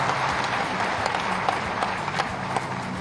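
A crowd at an official government ceremony inaugurating development projects applauds to welcome the chief minister, producing a steady wash of clapping with a few sharper individual claps standing out over moderate background noise.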